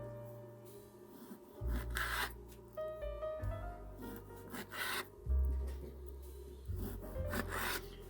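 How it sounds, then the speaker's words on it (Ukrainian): A knife cuts pork fat (salo) into thin strips and removes the rind, giving repeated rasping, scraping strokes in short bursts close by, with no talking. "Ріжу я його соломкою, шкурочку знімаю."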